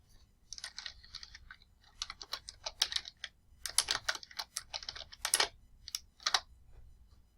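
A name is typed on a computer keyboard as quick bursts of crisp, close key clicks in an uneven rhythm, with short pauses between words in an otherwise quiet room.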